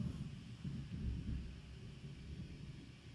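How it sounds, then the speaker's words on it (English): Thunder from a thunderstorm outside rolls as a low, continuous rumble, swelling slightly and then easing off, heard from indoors with no one talking. "Can you hear that? Thunderstorm out there?"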